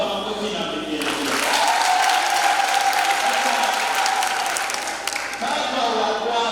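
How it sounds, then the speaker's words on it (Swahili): Sustained clapping with shrill ululating trills rises from a Catholic church congregation during a children's first communion questioning in Kijenge parish, Arusha, building after a second and then tapering near the end. "Makofi na vigelegele."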